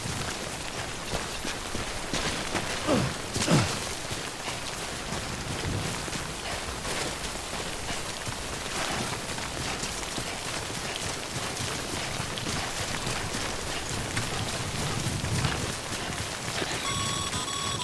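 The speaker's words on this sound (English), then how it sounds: "Don't stay out in the rain any longer than you have to." Timefall rain falls in the PS5 video game Death Stranding as a steady, even hiss of rainfall with a few louder spatters and no voices.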